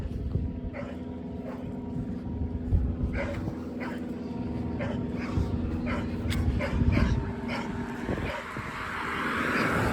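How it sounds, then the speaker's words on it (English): A dog barks repeatedly at a distance near an old Methodist church and cemetery in rural Unionville Center, Ohio, sharp yaps recurring over steady outdoor background noise with a faint aircraft-like drone. "there's a dog barking at me"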